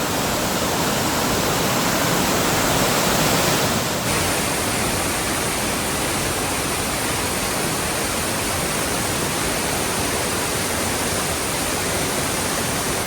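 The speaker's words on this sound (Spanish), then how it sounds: "Hemos llegado a la segunda cascada." A cascade near Curarrehue, close to Pucón in Chile, pours down with a steady, loud, full roar of falling water, heard up close and without pause throughout, with no talking.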